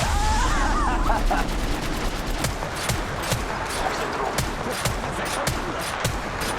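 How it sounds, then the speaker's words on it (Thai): Rapid gunfire in Apex Legends Mobile, sharp bursts and scattered shots cracking repeatedly over several seconds, fairly loud against a busy background of game noise. "มีคนยิงมา"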